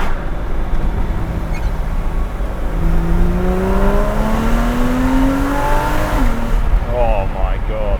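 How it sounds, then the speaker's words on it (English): A Porsche Cayman S engine heard from inside the car on a country lane, revving up through the gears with a rising whine, then a sharp downshift as the note drops, loud and close with road noise under it. "the crack on the downshift then"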